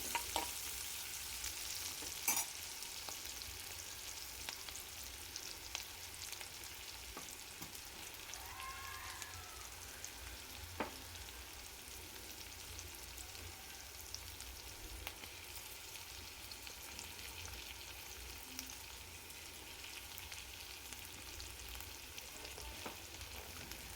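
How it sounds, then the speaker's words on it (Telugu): Ginger-garlic paste for a beetroot and chickpea curry fries in hot oil with a steady, soft sizzle and bubbling, punctuated by faint stirring clicks, with no voices over it. "అల్లం వెల్లుల్లి పేస్ట్ కూడా కొంచెం పచ్చివాసన పోయేంత వరకు వేసుకొని మంచిగా ఫ్రై చేయండి."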